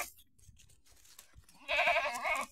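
Goats bleating at a farm shed in rural Maharashtra, several overlapping calls rising loudly in the second half after quieter rustling and faint background sounds.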